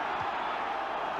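Football crowd at Roker Park during a 1982 Sunderland versus Nottingham Forest match, a steady distant roar of many voices swelling through the stadium with no distinct peaks, continuous for the whole moment.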